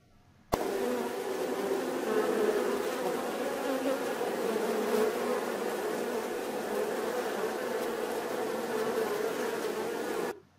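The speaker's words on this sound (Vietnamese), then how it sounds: "con ong lại phát ra tiếng vù vù" A bee buzzes in a steady, loud, continuous drone that cuts in abruptly and holds evenly for about ten seconds, close and alone with no talking.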